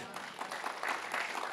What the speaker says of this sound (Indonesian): Udah mulai yakin dari tepuk tangannya